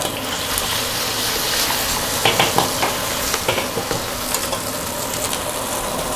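Eggs for Hong Kong fried rice sizzle steadily in a hot wok with scraping stirs and clinks, a dense crackling hiss throughout, close by, with no voices.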